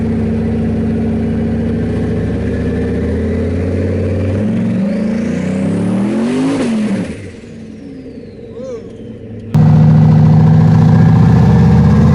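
A turbocharged truck revs and accelerates on a street, its engine note climbing with a rising turbo whine, then easing off briefly before a loud, steady drone resumes.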